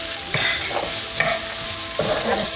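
Onions, ginger and garlic stir-fry on high heat for chicken chow fun, a dense loud sizzle with three or four clattering spatula tosses against the pan, near and without speech.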